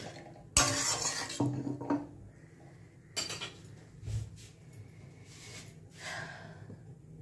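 A lid is set onto a cooking pot of squash and potatoes with a sudden metallic clatter and rattle, followed by softer handling knocks and shuffling in a quiet kitchen.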